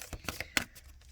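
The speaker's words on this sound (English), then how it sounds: "I'm going to shuffle you some cards" A deck of tarot or oracle cards is shuffled close up in a quiet room, giving a few quick, soft riffling slaps and flicks that taper off within about a second.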